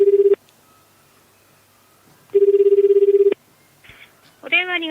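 A telephone call to a Japanese post office rings out in two steady warbling bursts with a gap of silence between, then a person begins speaking as the line is answered.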